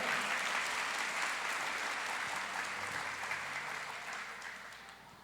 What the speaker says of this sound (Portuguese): Se você crê nisso, aplauda